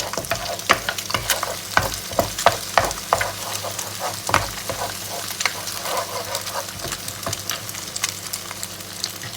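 Eggs are scrambled and stir-fried in a hot pan for pad see ew, with continuous sizzling and frying broken by repeated scraping clicks of a utensil against the pan, close and fairly loud.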